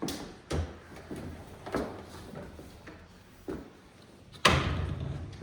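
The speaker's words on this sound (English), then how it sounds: "Here's our French doors." Old French doors in a Victorian twin house in Germantown, Philadelphia, are opened and shut with several wooden thumps, knocks and rattles, and one heavier slam near the end, heard up close in a quiet room.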